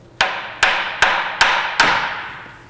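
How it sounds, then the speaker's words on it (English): A hammer strikes a Toyota engine mount five times at a steady, even interval, each tap sharp, loud and close with a short ringing decay, and no talk. "Take a hammer, tap it right here."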